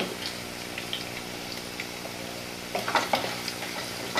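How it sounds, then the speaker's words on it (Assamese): Potatoes fry in a pan with turmeric, giving a steady, close sizzle with a few louder bursts of stirring and spatter near the end; no one speaks. "আলুখিনি একেবাৰে ৰংচোৱা হোৱালৈকে মই এনেকৈ ভাজিম।"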